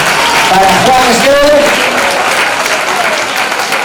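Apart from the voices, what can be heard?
studio audience applause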